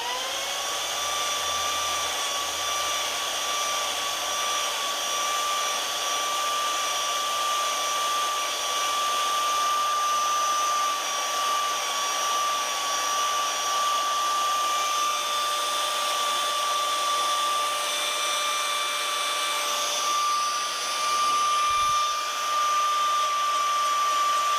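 An Arbortech mini carver power-carves wood with a steady, high, loud motor whine that holds unbroken for over twenty seconds, close up and with no talking.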